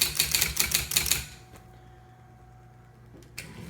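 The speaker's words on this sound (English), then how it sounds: "Typing action is a lot better. Full carriage return." A Sears Scholar manual typewriter under repair clacks in a rapid, even burst of keystrokes, then its carriage is pushed back with a brief slide and a sharp knock at the end, close up.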